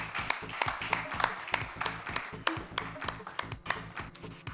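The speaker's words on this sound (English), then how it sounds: "Can we all cheer for JSW Steel Limited, please?" An audience at an awards ceremony applauds a recipient, with scattered hand claps in an uneven, moderately close rhythm that carries on steadily throughout.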